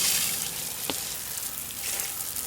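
Water spray rinsing a car wheel being prepped for Plasti Dip, a steady hissing wash with a brief splashy burst near the middle.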